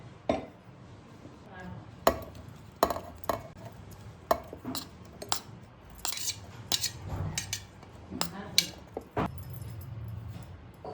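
A knife cuts a kilo of tomatoes into small pieces for tomato pachadi, giving quiet, close, irregular sharp taps against the board.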